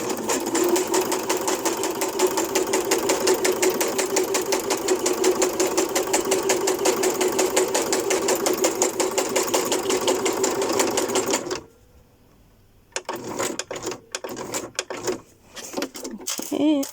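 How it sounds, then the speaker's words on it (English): A sewing machine stitches through cardboard scraps in a fast, steady mechanical chatter for about eleven seconds, then stops, leaving quiet handling knocks and rustles. "then we'll sew across that bit to connect it in a minute"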